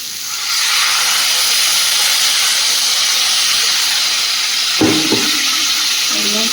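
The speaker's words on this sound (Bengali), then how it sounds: "এবার জল দিয়ে দেবো।" Water poured into a hot pan of cooking food sets off a loud, steady steaming sizzle that holds for several seconds, with a brief stir or clatter near the end.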